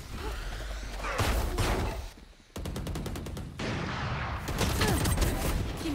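Automatic gunfire in the Valorant shooter game, a sustained dense burst of rapid shots with a clearly separated rhythmic volley in the middle, loud and close, with game effects around it.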